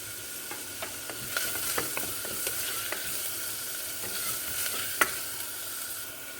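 Onion cooks with salt in a pan for veg pulao, a quiet continuous sizzle with irregular scraping and stirring knocks, one sharper clack near the end.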